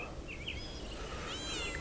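Two faint, short cat meows sound at a distance over a steady low background hum.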